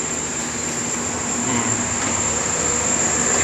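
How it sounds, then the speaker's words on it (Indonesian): A Pertamina freight train rumbles steadily nearby, a continuous mechanical drone with a high whine running through it, no talking. "Ini ya, ada kereta api Pertamina, logistik kereta api."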